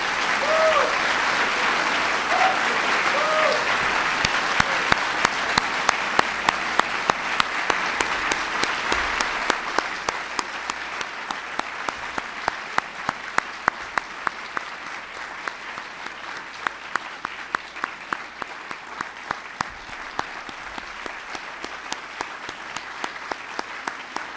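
An audience at the 2011 National Medals ceremony at the White House breaks into sustained, full applause that thins toward the end, leaving sharper individual claps ringing out in the hall.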